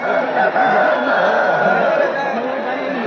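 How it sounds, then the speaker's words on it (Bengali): Fighting roosters crowing and clucking at a busy cockfighting ring, heard close and loud over a dense hum of crowd chatter, with people talking throughout. "এখানে দেখতে পাচ্ছেন সবাই মুরগি লড়াইয়ের জন্য"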